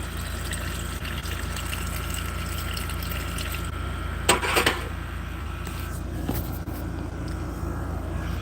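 Water pours into a container outdoors in a steady, rushing stream that runs the whole time, broken by a couple of brief knocks and clunks near the middle.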